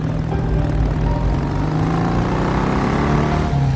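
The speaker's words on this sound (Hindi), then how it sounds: "ये गाड़ी की आवाज कैसी है, लगता है कोई आ रहा है" Cartoon car arriving, a steady engine drone with a low hum that holds at a constant level throughout, with no talking over it.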